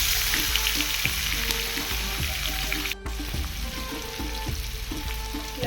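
Onion going into hot oil for a Konkani-style prawn and coconut dish, a loud steady sizzle of frying with recurring low knocks and scrapes of stirring throughout, a brief dropout midway.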